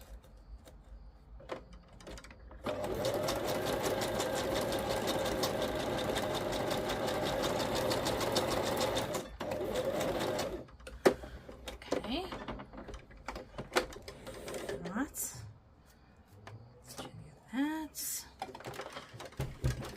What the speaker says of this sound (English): this machine is skipping stitches